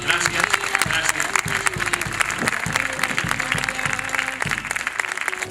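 An audience applauds at the 92nd anniversary celebration of the Sabinosa folk group, a dense sustained clapping close by, with musical tones and voices mixed in underneath.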